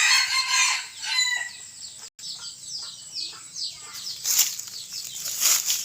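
A rooster crows outdoors with wings flapping, alongside clucking, the calls loud and close, with a faint voice or two in the background.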